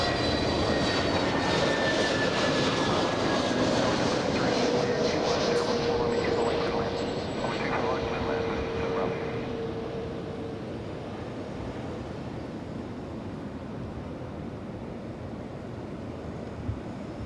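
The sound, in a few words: American Airlines flight 1331 from Dallas arriving aircraft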